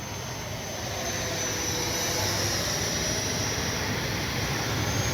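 An FGFRC FlyFans L-39 Black Diamond RC model jet flies on a morning sortie, its electric ducted-fan whine a steady, loud, continuous roar with no talking.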